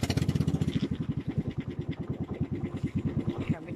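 A new inboard engine on a small fishing boat chugs steadily and loudly up close, a fast regular thumping pulse running throughout with no talking.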